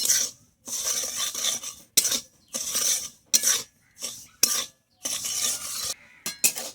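Salt roasts in a hot wok for homemade beet salt while a spatula scrapes and stirs it in loud, gritty strokes, each burst separated by short pauses, close and clear with no talking.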